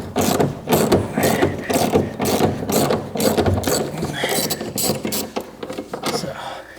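Bolts threaded in and backed out with a ratchet during a Honda S800 restoration: brisk, repeated mechanical clicking that runs steadily close by, with brief pauses between strokes.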